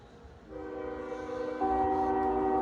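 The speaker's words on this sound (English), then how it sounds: "We've got a K422 headed north, empty ethanol train with NS, UP, and BNSF leading." The horn of CSX freight K422, an empty northbound ethanol train led by NS, UP and BNSF locomotives at Mortons Junction in Mortons Gap, Kentucky, sounds in a sustained blast that swells louder partway through.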